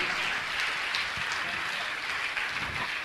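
An audience at a religious gathering claps in a steady, even round of applause, close and continuous throughout.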